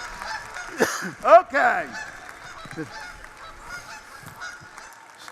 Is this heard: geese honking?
yes